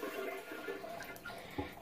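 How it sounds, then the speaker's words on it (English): A household toilet flushing with glitter in the bowl: a steady rushing, gurgling swirl of water, moderately quiet and continuous throughout. "we're going to flush it"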